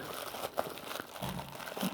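Packaging for a Sapphire Radeon RX580 8GB graphics card is opened by hand, with close, soft crinkling and rustling of plastic and paper plus a few small tearing sounds.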